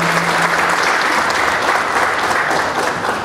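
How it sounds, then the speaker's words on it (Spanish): Loud, sustained applause from a crowd at a rural development forum, dense overlapping claps held at an even level throughout, with a short voice audible at the start. "Si está con nosotros, un fuerte aplauso."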